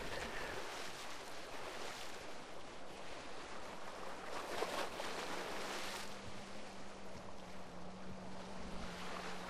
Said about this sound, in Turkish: Bak şunun yine polis teknesi.